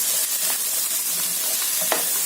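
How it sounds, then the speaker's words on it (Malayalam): Boiled chickpeas hit a hot pan with a steady, dense sizzle that holds loud and even throughout, with a few faint clinks of stirring breaking through. "ഇനി നമുക്ക് പാനിലേക്ക് നമ്മൾ വേവിച്ച് വെച്ചിരിക്കുന്ന കടല ഇതിട്ട് കൊടുക്കാം."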